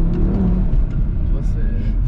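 Audi RS3 with a 400 hp engine revving up as it downshifts, a steady loud engine roar throughout under people talking inside the car.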